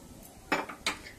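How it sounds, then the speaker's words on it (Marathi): A spatula or spoon stirs very hot ghee into matar karanji dough, making two short scraping clinks against the bowl, close and brief, with no voice. "अशा उलटाण्याच्या किंवा चमचेच्या साह्याने असं हलवून घ्यायचं"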